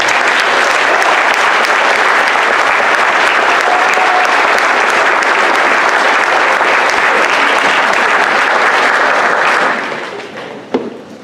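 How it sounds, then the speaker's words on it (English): Loud sustained applause from the audience at a Gold Medal ceremony for Filipino World War II veterans, a thick continuous roar of clapping that fades out near the end, followed by a couple of stray claps. "Let's give him another round of applause"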